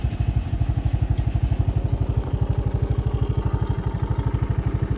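A Case Magnum tractor of about 280 horsepower pulls a 60-foot Burgo heavy harrow across oat stubble. Its engine throbs in a fast, steady, pulsing rhythm that stays loud and close for the whole stretch, with no talk.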